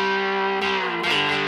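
A cigar box guitar played through a custom Dutton Thermionics amp with the gain up rings out as a sustained distorted note, with a brief pitch shift partway through, close and alone.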